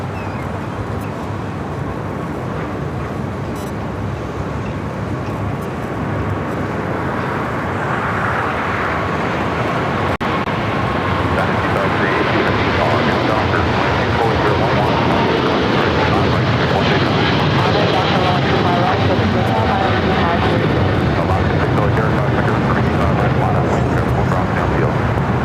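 An Austrian Airlines jet in older livery at LAX gives off a loud, steady engine roar that builds slowly over the whole stretch. The broad whine and rumble stay close and fill the scene, with no talk.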